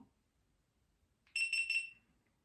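A GoPro Hero 11 action camera powering off sounds a quick run of high electronic beeps once after near silence, short and fairly loud.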